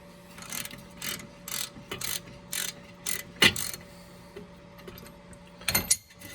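A ratchet wrench loosening the front strut nuts on a 2010–2013 Toyota Prius gives a series of close, crisp clicking bursts, several short ratcheting runs separated by pauses over a quiet workshop hum.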